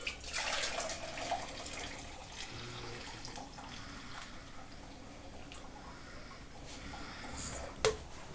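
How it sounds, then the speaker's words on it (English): Strawberry cider pours and splashes steadily into a jug, a soft continuous trickle with faint clinks, up close and without any talking. "I'm going to pour that into a jug."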